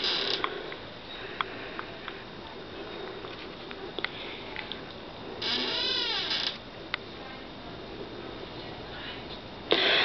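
An old wooden door in a historic house creaks faintly while a floor is stepped on, with a longer warbling creak in the middle and a sharp click near the end, over a steady hiss.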